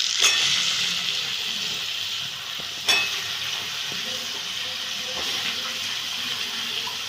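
Cut eggplant and potato pieces fry in hot oil in a pan, a constant loud crackling sizzle close up with a few soft knocks of stirring.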